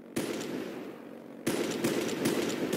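Naval guns firing in the SGC Naval Play 2 combat game, two loud bursts of gunfire about a second apart with a rumbling tail, no talk.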